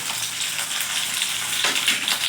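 Tomato, garlic, green chilies and dried chilies fry and get stirred in hot oil, giving a steady close hiss of sizzling with a brief scrape of stirring near the end.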